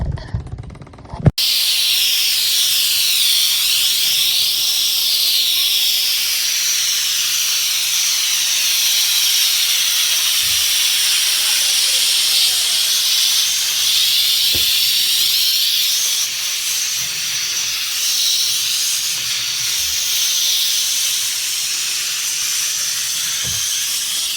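A Bissell PowerFresh Lift-Off Pet Steam Mop hisses continuously and loudly, almost unbroken after a brief click at the start, with faint bumps and knocks underneath.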